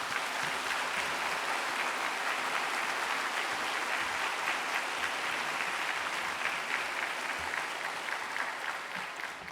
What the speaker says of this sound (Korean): 우리 강사 목사님 모실 때 뜨거운 박수로 모시겠습니다